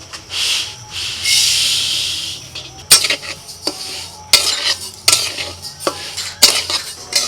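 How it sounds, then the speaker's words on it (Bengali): Moong dal being dry roasted in a kadai over a fire, heard as a soft hiss followed by repeated sharp metal scrapes and clinks of a ladle stirring the grains, irregular and close. "উনান জ্বালিয়ে কড়াই বসিয়ে দিয়েছি প্রথমেতেই মুগের ডালটা ভেজে নেব"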